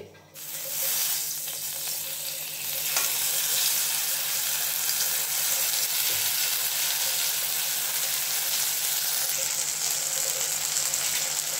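Nigella seeds and mustard paste sizzling in hot fish oil, a steady close crackling fry that holds loud and even throughout with no talking.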